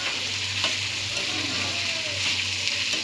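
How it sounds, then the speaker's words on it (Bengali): Bitter gourd (bitkori) frying in an open pan, giving a steady, close sizzle and crackle with a constant low hum beneath it and no voices. "দেখুন আর এদিকে তো দেখুন একটা ভাজা বসিয়ে দিয়েছি"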